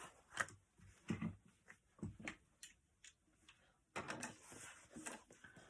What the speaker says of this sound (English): I'm going to top stitch this curve